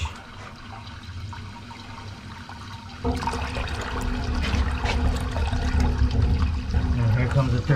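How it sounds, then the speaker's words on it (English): A toilet being flushed a second time while a drain is cleared gives a sudden loud rush of water partway through. A sustained swirling gurgle follows, close to the listener. "Second flush."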